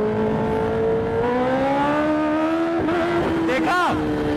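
Superbikes, named as a Kawasaki ZX-10R, a 1000RR, a Suzuki and a Z900, ride past with rising engine whines that climb and then swoop down in a quick Doppler pass near the end, loud and fairly close.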